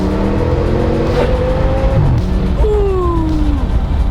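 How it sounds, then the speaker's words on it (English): An Audi RS6 with a V10 engine pulling hard on a rain-soaked road, revs rising in a loud sweep, dropping, then climbing again as it accelerates close by over wet tyre hiss. "We have a V10 under the hood"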